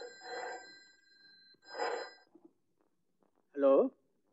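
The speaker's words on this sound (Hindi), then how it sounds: "गंगू जी मैं जरा टेलीफोन देखो।" A telephone bell rings indoors in two loud bursts with a pause between them, and a short voice follows after the second ring.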